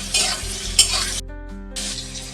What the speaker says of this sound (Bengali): এই যে লঙ্কা, 7টা লঙ্কা, 2 কোয়া রসুন, আর খুব সামান্য আদা, এটা আমি ভেজে নিচ্ছি।